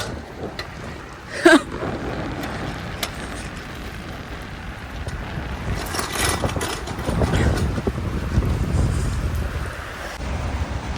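Cold wind on a rainy day in Dammam, Saudi Arabia, buffets the microphone in uneven low rumbling gusts that swell louder toward the end, with a brief thump early on.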